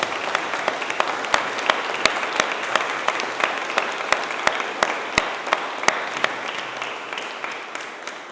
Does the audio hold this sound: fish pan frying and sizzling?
no